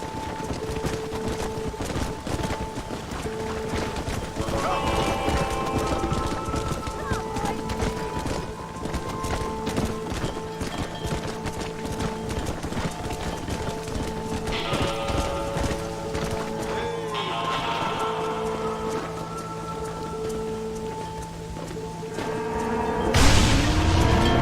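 Stampeding horses gallop in Red Dead Redemption, a continuous rumble of many hooves with whinnies and booming hits over a sustained musical drone, ending in a sudden loud burst.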